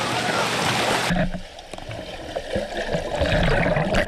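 A lifeguard swims in an indoor pool, steady splashing and churning water throughout, loud and close with a constant wash of noise.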